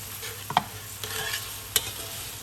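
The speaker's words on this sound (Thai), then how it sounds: "หลังจากนั้นใส่ลูกชิ้นลงไปค่ะ ลูกชิ้นหมูนะคะ" Pork meatballs stir-fried in a pan: a steady close sizzle with a few sharp scraping clinks from the spatula, and no one speaking.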